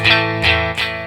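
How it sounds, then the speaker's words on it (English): A guitar played through the drive (overdrive) setting on a Behringer V-Amp 3 processor: three strummed chords a fraction of a second apart, each mildly gritty and buzzing, loud and close. "So this is the drive."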